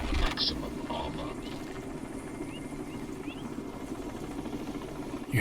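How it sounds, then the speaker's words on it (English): An enemy Black Hawk helicopter in the video game Crysis, a steady throbbing rotor drone at moderate level running throughout, with a few faint electronic blips and chirps on top. "You hear that? Enemy chopper."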